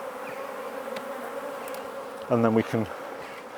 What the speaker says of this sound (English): I'm just going to shake these bees off